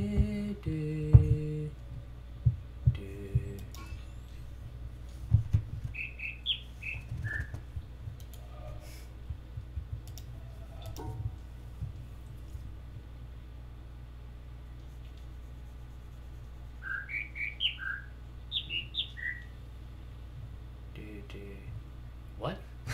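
Birds in the video game The Witness chirp in two short clusters of bright whistled notes, faint against a steady low hum, with people talking quietly at the start.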